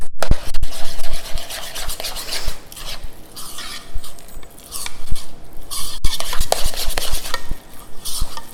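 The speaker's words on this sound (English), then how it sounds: "I'm just mixing it really good, getting all of the dry mixture mixed with the liquid, making the batter" Zucchini apple muffin batter being mixed by hand in a bowl as the dry mixture folds into the liquid, a loud, close run of scraping, clinking utensil strokes in an uneven rhythm with brief pauses.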